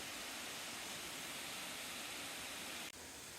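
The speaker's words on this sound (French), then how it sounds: "arrivés à la cascade. C'est un endroit plutôt joli." A waterfall pours steadily nearby, a dense broadband rush of falling water at constant level, briefly interrupted by a small click near the end.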